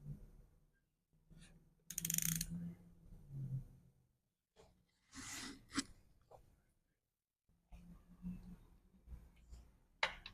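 Torque wrench tightening a spark plug on a 2005–2009 Mustang GT to 25 foot-pounds, giving several short bursts of ratcheting clicks separated by quiet pauses, close and fairly loud.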